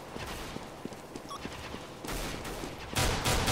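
Gunfire in the video game CS:GO: a run of quick sharp shots, then denser louder bursts of firing near the end, with no speech.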